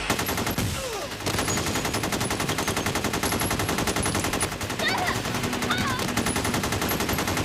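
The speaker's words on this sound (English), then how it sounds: "Firing non-stop." Sustained automatic gunfire during the North Hollywood bank shoot-out, a dense, relentless stream of rapid shots with barely a pause, loud and reverberant, with faint voices in the background.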